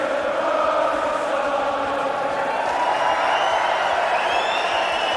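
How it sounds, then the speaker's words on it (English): A darts crowd at a PDC Premier League night in the West Country of England singing and chanting for Nathan Aspinall, a sustained, loud, reverberant mass of voices filling the arena. "the crowd serenade Nathan Aspinall down in the West Country of England"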